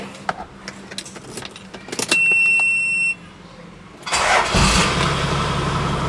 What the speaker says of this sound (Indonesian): kita masuk ke dalam, kita nyalakan mesinnya ya